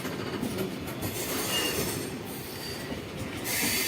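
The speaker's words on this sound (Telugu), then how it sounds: "విజయవాడ స్టేషన్లోకి అయితే ఒక ట్రైన్ అయితే ఇప్పుడే వస్తుందన్నమాట" A train pulls into Vijayawada junction station. Its wheels grind and squeal over a continuous rolling rumble, close and loud throughout, with a brief swell near the end.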